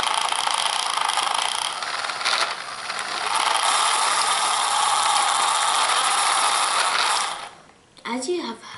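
A toy model car's wheels spin furiously fast, giving a loud, steady mechanical whir with a ratcheting, gear-like buzz that holds for about seven seconds before cutting off abruptly, followed by a brief voice.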